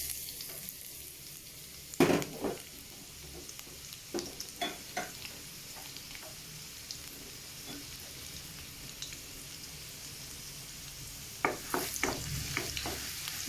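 Chopped garlic in two tablespoons of vegetable oil over a high flame for fried rice, giving a steady soft sizzle with a few sharper stirring clatters near the start and again toward the end.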